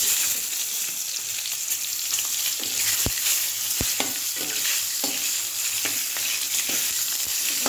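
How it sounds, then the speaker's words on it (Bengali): Tomatoes fry in hot oil with cumin seeds, filling the clip with a loud, steady sizzle broken by occasional spatula scrapes and taps against the pan. "টমেটোগুলো ভালো নয়, ওই জন্য একটু তেলে ভেজে দিচ্ছি।"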